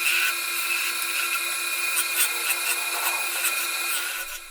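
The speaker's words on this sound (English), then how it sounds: "Using a lathe machine, the wood is carefully shaped into a perfect sphere." A lathe turns a wooden block into a sphere, giving a steady high mechanical whine with a sustained tone, while the cutting tool rubs and scrapes against the spinning wood in uneven bursts, close and continuous.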